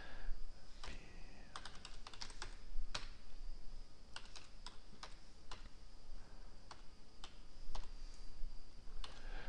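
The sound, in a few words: typing HTML code on a computer keyboard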